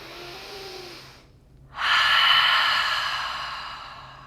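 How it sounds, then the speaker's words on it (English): A cleansing breath during a yoga session: a long, strong exhale that rushes in after a brief pause and slowly fades, close and breathy, with no talking. "Give yourself a cleansing breath."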